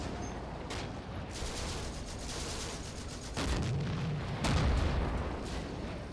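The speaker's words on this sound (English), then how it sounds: "We hear a lot of shooting." Simulated WWII gunfire in Combat Mission: Afrika Korps: a dense, continuous crackle of distant shooting with heavier booming bursts landing at irregular moments, loud throughout.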